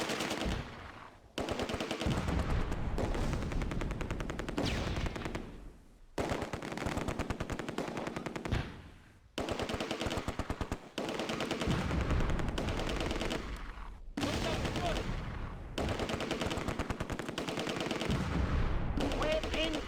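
Sustained bursts of automatic machine-gun fire in the WWII strategy game Close Combat, set at Arnhem bridge, come in long loud rattling volleys separated by brief gaps, with gunfire dominating throughout.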